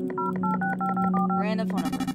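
A random phone number is keyed in inside a video game, a quick run of about eight touch-tone beeps in steady rhythm, then rising electronic warbles and a buzzing tone, loud and up front.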